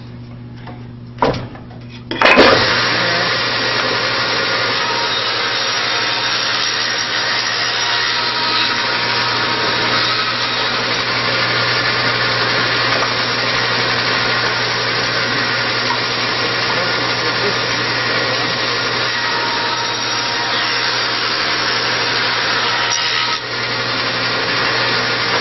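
Saw cutting quarter-inch-thick wooden strips for homemade push sticks, a steady loud continuous cutting roar that holds for nearly the whole stretch after a few brief knocks at the start.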